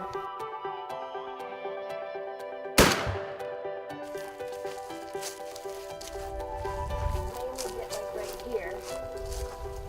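A single sharp, loud shotgun blast on a Michigan turkey hunt, ringing out once early amid the ambient sounds, with people talking before and after.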